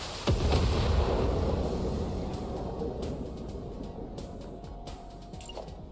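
Explosion clearing trees in the video game Satisfactory, a sudden heavy boom followed by a long rumbling decay with scattered crackles and debris pops.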